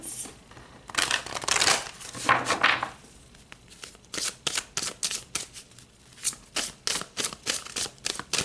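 Tarot cards being shuffled and drawn, a rustling, crinkly shuffle at first, then a steady series of sharp card slaps and flicks in an even rhythm, close up with no voices.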